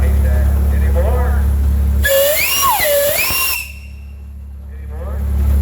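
A 1906 16 horsepower Reed steam engine's whistle gives one loud, wavering blast of about a second and a half, with the pitch bending up and down, over a steady engine rumble and background noise at an outdoor steam show.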